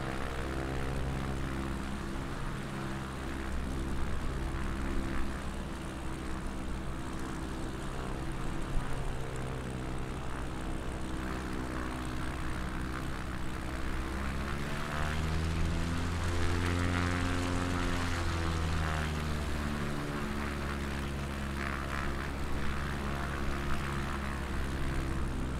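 A propeller airplane descending toward runway 23 in a crosswind, heard from the cabin as a loud, steady engine drone whose pitch shifts and wavers midway through the approach.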